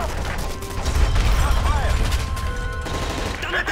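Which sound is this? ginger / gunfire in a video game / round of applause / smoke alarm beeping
gunfire in a video game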